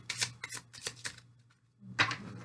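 A deck of angel cards riffled and shuffled in several quick bursts, close by, with a brief pause before one more crisp shuffle.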